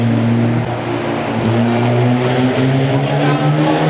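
Speedway motorcycles race around the Kings Lynn track in a loud, continuous engine roar, several bikes droning at high revs with pitch shifting as they pass through the bends.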